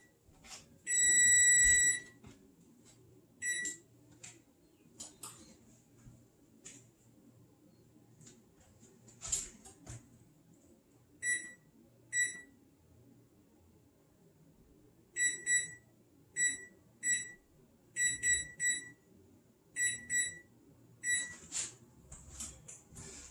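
A kitchen timer for baking chicken beeps in short high-pitched bursts, one long burst near the start, then scattered single beeps and a rapid repeating series later, over low kitchen background noise.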